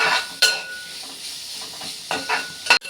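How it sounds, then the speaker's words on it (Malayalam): Ingredients for a Kerala beef curry sautéing in a pan, heard as a soft steady sizzle with several sharp spoon-on-pan scrapes and clinks as the mixture is stirred, close up with no voices. "നല്ലപോലെ വഴറ്റണം"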